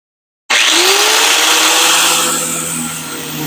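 A power tool bites into a steering shaft to cut a small notch, starting abruptly after a moment of silence and then grinding loudly and steadily, easing slightly toward the end.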